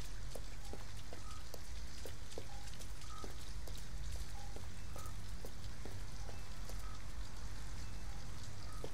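Rain falls steadily in the video game Detroit: Become Human, a dense, constant hiss with scattered drips and faint electronic tones throughout.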